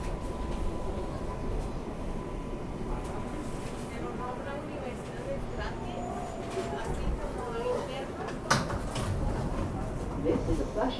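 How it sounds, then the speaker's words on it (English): A New York City subway 7 local train runs toward Flushing Main Street in Queens. Its interior rumble is steady and noisy, with a sharp clank near the end and muffled voices in the background. "This is a Flushing Main Street bound 7 local train."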